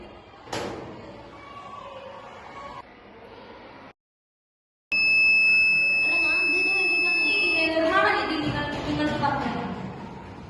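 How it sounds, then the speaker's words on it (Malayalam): A homemade door theft alarm built from two blades, a 9-volt battery, a switch and a buzzer gives a steady, piercing electronic tone for a few seconds after a door is opened, while a person talks over it. "വാതിൽ തുറക്കുമ്പോൾ ഈ ബ്ലേഡുകൾ തമ്മിൽ കൂട്ടിമുട്ടുകയും ഒച്ചയുണ്ടാകുകയും ചെയ്യും"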